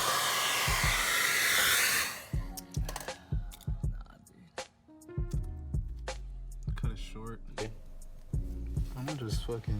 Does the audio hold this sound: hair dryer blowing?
yes